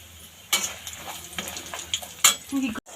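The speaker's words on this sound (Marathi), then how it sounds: "आता आपण खोबरं फ्राय करून घेऊया" Grated coconut frying in hot oil in a pan for makai chivda, a steady close sizzle broken by sharp stirring scrapes and clinks, with no talking.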